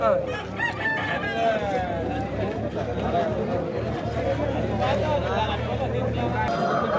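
A rooster crows amid a busy Saturday country-chicken market, with chatter and general crowd noise throughout and a low engine hum underneath.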